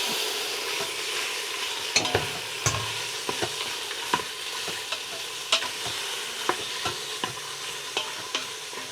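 Chicken browning in an Instant Pot, a steady sizzle broken by repeated utensil scrapes and taps as it is stirred, close and moderately quiet, with no voices.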